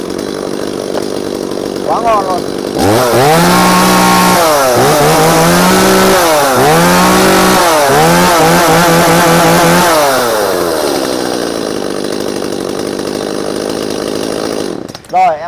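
A used Japanese-market R10 chainsaw with assisted start is pulled to start and roars to life, its engine revving up and down repeatedly before settling into a steady idle, with brief talk.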